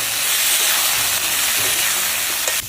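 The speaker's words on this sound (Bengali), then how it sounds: "তেলের মধ্যে কপি কটা যে আমি দিয়েছি, ওই কপির মধ্যে জল দিয়ে দিতেছি।" Water poured onto cauliflower in hot oil, throwing up a loud, steady hiss of steam and sizzle close by, without any talking.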